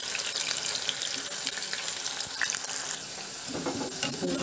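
Gobi cauliflower pieces fry in hot oil, a close, steady crackling sizzle with bubbling, and a thicker surge of frying noise near the end as more pieces are stirred or added.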